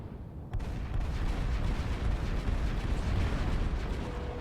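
Kinetic cannons fire during a space battle in a video game, a dense, continuous barrage of booming blasts and rumbling impacts that starts with a sharp hit and stays loud throughout.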